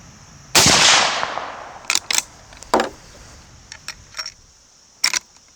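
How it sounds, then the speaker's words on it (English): A 110-year-old Winchester rifle fires a single sharp, loud, close shot, followed by metallic clicks and clacks of handling and cycling the action. "Go ahead and take a few shots off the bag"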